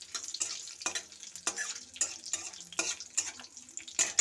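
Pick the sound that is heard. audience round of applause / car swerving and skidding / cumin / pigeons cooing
cumin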